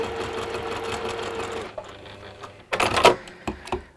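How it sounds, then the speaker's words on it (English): A sewing machine stitches a diagonal seam along a marked line in a craft workshop, running in a steady buzzing stretch, pausing, then breaking into shorter louder bursts near the end. "So we've sewn the diagonal line along that, along the mark line."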